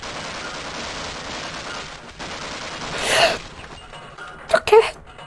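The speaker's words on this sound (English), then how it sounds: "I don't know if that explosion hit me or if it hit the thing" In a Half-Life game, an explosion sounds as a sharp, noisy burst, followed a second later by a pair of quick, louder blasts over a steady background hum of game ambience.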